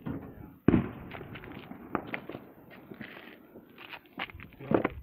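Fourth of July fireworks go off in scattered pops and thuds, one sharp burst standing out amid softer, intermittent bangs, mixed with footsteps and faint background activity.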